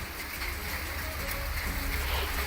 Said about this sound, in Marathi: पुण्यामध्ये पुन्हा गारपीट आणि मुसळधार पाऊस झाला